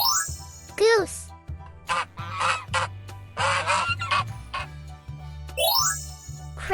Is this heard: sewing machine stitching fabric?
no